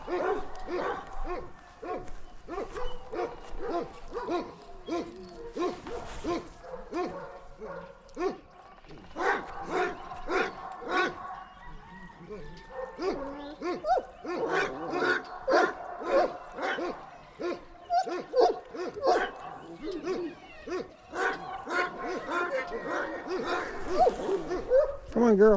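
Several dogs bark excitedly, overlapping yips and woofs in bursts, with some whimpering and people talking in between.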